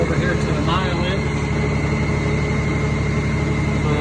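A 2018 Honda Goldwing DCT motorcycle engine idles with a steady low rumble, its check engine light lit, while someone talks over it throughout.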